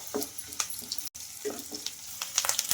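Curry leaves and green chilli strips sizzling in hot oil in a pan, a steady crackling fry with a brief break partway through and intermittent stirring scrapes.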